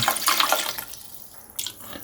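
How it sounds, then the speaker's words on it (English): Water pours into a pot of pork hock being braised with Sichuan peppercorns, a bright splashing stream in short bursts, close and moderately loud, with no talk. "Some water, not too much"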